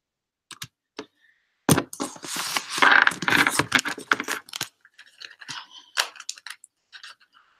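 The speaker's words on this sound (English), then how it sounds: "It's a bigger shuffle where the cards are just going to fall where they do." Tarot cards are being shuffled by hand: bursts of crisp clicking and riffling, irregular and close, separated by short pauses, with no voices.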